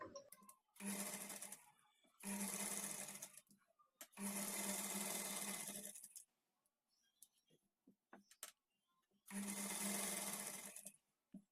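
A sewing machine stitches a fall onto a saree in four close, rapid whirring runs of one to two seconds each, separated by pauses with light clicks and handling noise.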